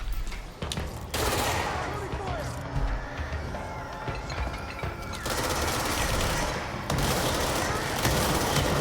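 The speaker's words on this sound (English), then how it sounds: "What are you shooting?" Heavy gunfire rattles through a firefight in the video game Control, sustained automatic bursts and booming impacts loud and close, with game effects layered in and occasional voices underneath.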